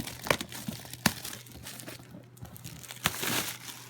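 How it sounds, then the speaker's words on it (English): Tape being peeled off a cardboard box, heard as sharp crinkling and tearing bursts with a few louder snaps spaced irregularly over a low background hum, close by and moderately quiet. "I've already started taking the tape off"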